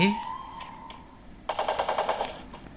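Rapid bursts of gunfire in the video game Free Fire rattle in a quick repeating volley, preceded by a brief tonal electronic sound, moderately loud with no talking.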